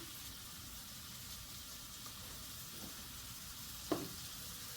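Mushrooms fry and brown in a pan with a steady, even sizzle throughout, and one small clink near the end. The sound is moderately quiet and continuous, with no talking.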